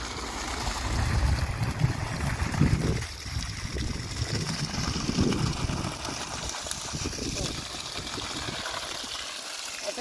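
Water flows continuously from a long-running source near a grape vineyard in a drought-prone area, making a steady, fairly loud rushing wash that never lets up.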